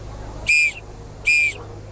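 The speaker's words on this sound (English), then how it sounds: "One continuous long whistle means that someone is being arrested" At a Chicago parade, a whistle gives two short, sharp, shrill blasts about a second apart, loud and close over low crowd and street background.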